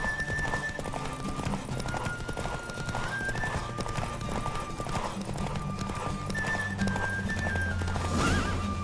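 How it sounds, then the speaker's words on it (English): Horse galloping in The Witcher 3, a rapid hoofbeat clatter carrying on steadily under rushing wind, with neighs and a game character's voice heard briefly. "Don't spare the horse!"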